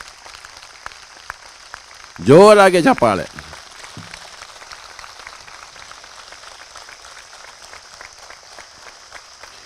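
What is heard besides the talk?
audience applause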